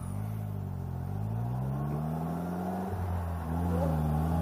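A Polaris three-wheeled trike's engine accelerating, its tone rising steadily through the revs as the clutch takes up, then easing briefly and climbing again, heard fairly close and steady with no talk over it.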